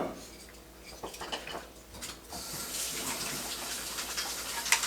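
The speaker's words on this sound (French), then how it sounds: "on récupère bien et on vient bien tout arroser le gâteau." Lemon syrup is spooned and poured over a glazed lemon cake, a soft trickling, splashing liquid sound mixed with light clinks of a spoon against a dish, close and fairly quiet.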